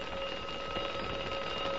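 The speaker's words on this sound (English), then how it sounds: "I said turn that lousy alarm clock off." An alarm clock rings as a sound effect in an old radio broadcast, a steady continuous tone held throughout, moderately faint with no talk over it.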